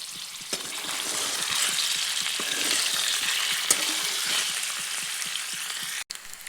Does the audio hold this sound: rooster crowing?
no